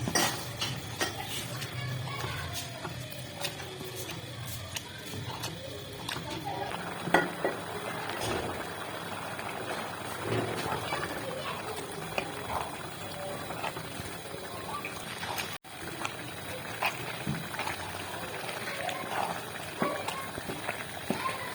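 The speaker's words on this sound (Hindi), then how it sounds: "हमने इसी तरह से इसमें चम्मच चलाना है मुसलसल तरह से अच्छी तरह से इसको खोद लेना हमने" A spoon stirs white radish halwa with milk in a pan, making a continuous scraping and clinking over a soft sizzle, fairly steady and close throughout.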